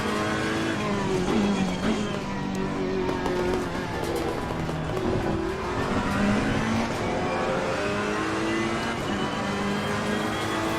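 A GT3 race car engine roars at Imola in an esports racing game, holding a loud, steady drone with repeated rising revs and gear-shift dips through corners, continuous and close.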